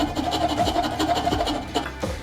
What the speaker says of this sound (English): You'll see what it looks like as I'm hand filing